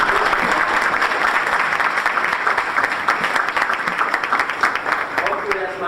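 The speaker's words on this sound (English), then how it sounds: "Please give them a round of applause" Audience applause for the Buffalo Soldiers at a formal ceremony: a dense, steady wash of many hands clapping for about six seconds, loud and continuous, easing only slightly toward the end.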